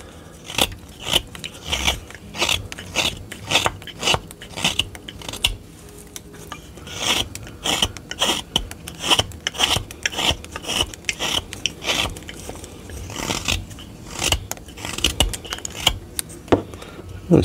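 A knife whittles wood with paring cuts in a first carving project, giving close, crisp scraping and crackling strokes in a quick, uneven rhythm that runs almost without pause.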